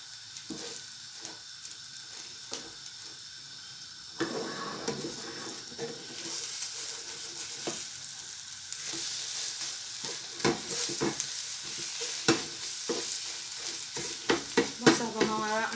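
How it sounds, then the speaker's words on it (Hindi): An egg fries in a pan for jungli pulao, turned to cook on both sides; a quiet sizzle grows louder midway, with scattered spatula scrapes and taps close up and no talk. "बस दोनों साइडों से हम अच्छे से अंडे को फ्राई कर लेते हैं।"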